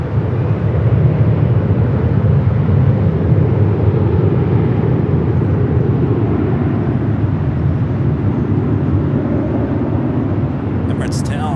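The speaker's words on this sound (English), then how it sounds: "This is United Airlines 1069 taking off to Chicago O'Hare on the" A United Airlines Boeing 757-300 taking off from LAX for Chicago O'Hare makes a loud, sustained jet engine roar with deep rumble, steady and close throughout before easing slightly at the end, while someone talks faintly over it.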